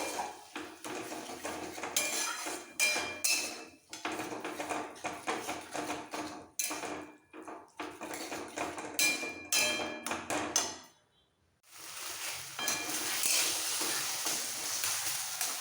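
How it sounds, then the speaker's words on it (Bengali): A metal spatula scrapes and taps steadily against a pan while mashed flat beans and boiled potato are mixed with ground coriander leaves, with a continuous busy clatter, a brief pause near the end, then more scraping. "এইভাবে একটু মিশিয়ে ফেলতে হবে খুন্তি দিয়ে ধনে পাতার সাথে আলুটা"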